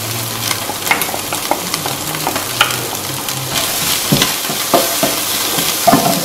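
Onions frying in oil in a non-stick pan, a loud, dense close-up sizzle broken by frequent scraping and clattering as a utensil works the pan, no voices.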